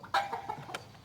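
A chicken clucks in short, sharp bursts while being injected near the breastbone, several quick close squawks and clucks over about a second.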